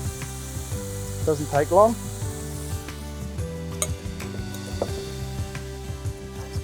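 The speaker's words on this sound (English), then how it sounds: "So we've got our tentacles as well. Again, just a bit of a stir through." Calamari tentacles stirred through a hot sizzling pan, a steady fry hiss with a few scraping stirs, while a person speaks briefly over it and background music plays.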